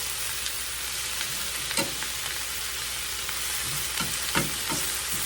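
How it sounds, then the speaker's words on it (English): Pork chops and cabbage fry in a skillet with a steady, moderately loud sizzle, broken by a few soft utensil clicks and stirs, with no talking. "I'm going to let it sit and let it brown on the bottom"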